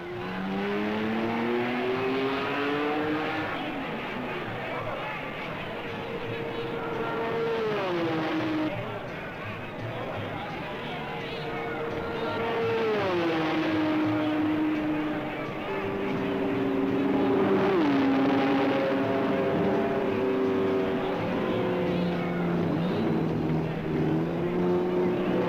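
Race cars in an auto race roar past, engines rising and falling in pitch as they approach and recede, layered over one another and fairly loud throughout.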